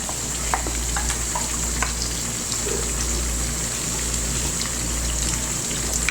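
Tomato paste frying with garlic and ginger in a pan for chicken Afghani karahi, a steady, close sizzle with occasional crackles and pops running throughout, no voices.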